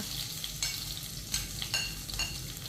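Ginger, curry leaves and garlic sauté in hot oil in a pan for a dates pickle, giving a steady close sizzle broken by a few brief stirring scrapes, with no talk.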